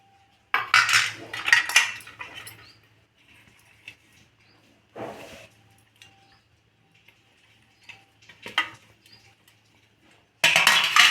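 A metal idli steamer vessel is handled and oiled in a kitchen, giving scattered clinks and scrapes of metal against metal between quiet pauses, ending with a louder burst of clattering.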